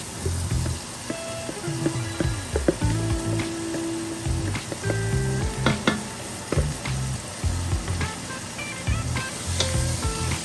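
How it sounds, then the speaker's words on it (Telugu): Marinated jackfruit pieces drop into frying masala in a pan for jackfruit biryani, setting off a loud, steady sizzle broken by repeated clattering stirs and scrapes of a spoon against the vessel, with no talking. "ఇప్పుడు మనం ముందుగా మ్యారినేట్ చేసి పెట్టుకున్న పనసకాయ ముక్కలు ఉన్నాయి కదా, వీటిని ఇందులో వేసేద్దాం"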